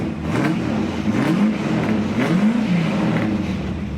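A 1969 Pontiac Firebird 400 restomod with aftermarket exhaust, its engine revving in a few rising and falling swells, deep and throaty at close range with no talk over it.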